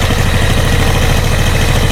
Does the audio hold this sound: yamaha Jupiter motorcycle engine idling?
yes